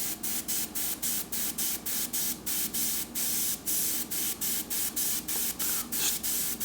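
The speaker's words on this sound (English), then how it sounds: "have some control over this single action airbrush, just in the respect of how much I'm actually pressing the trigger" Single action airbrush spraying paint in quick repeated bursts, each hiss cutting on and off in a steady rhythm as the trigger is pressed and released, close and fairly quiet.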